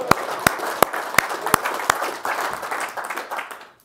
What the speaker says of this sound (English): How about a round of applause for Utah Airguns?